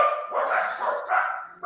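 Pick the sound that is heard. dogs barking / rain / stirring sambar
dogs barking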